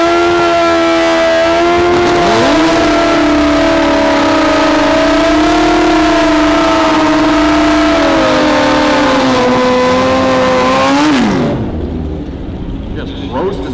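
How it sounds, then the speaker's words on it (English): A drag racing car on a drag strip, competing in heads-up drag racing, roars through a long, loud burnout. Its rear tire spins and smokes at a steady high pitch for about eleven seconds, then the engine drops off sharply into a quieter idle and crowd noise. "Just roasting the tire off the back there, real low."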